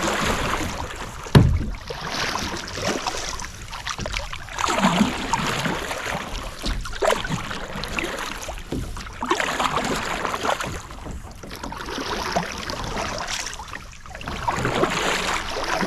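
Water sloshes and splashes in a steady rhythm as a paddle dips in and out beside a Crescent Kayaks CK1 Venture kayak, with light wind noise throughout.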